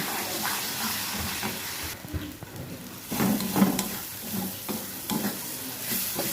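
Spice masala stir-fried in hot oil for a lote fish dish, with a steady sizzle and hiss broken by scraping stirs of a spatula in the pan, close and continuous.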